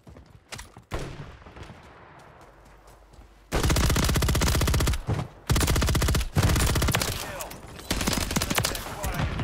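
Loud, sustained automatic gunfire from Call of Duty: Warzone 2 on Rebirth Island, with dense bursts of rapid shots filling most of the clip after a quieter, scattered opening.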